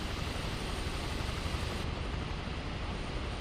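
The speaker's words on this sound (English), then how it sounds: "Here we can hear some blades slapping." A helicopter's rotor blades churn in Microsoft Flight Simulator 2024, a steady, dense engine-and-rotor roar with a faint rhythmic texture in the low end and no talking.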